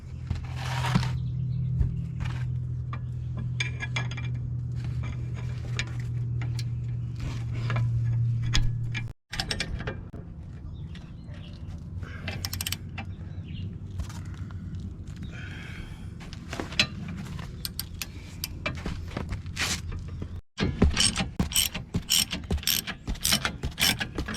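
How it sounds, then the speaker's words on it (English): A ratchet fitted with a 17mm socket loosens a control arm nut on a 2002 Infiniti I35, with long runs of rapid close clicking broken by short pauses and a few metallic clunks, with no voices. "now we need to release this bolt, or nut, I'm sorry, right there, 17mm socket."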